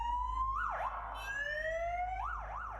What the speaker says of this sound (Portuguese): Acabou que ele estava indo testar as sirenes de sua moto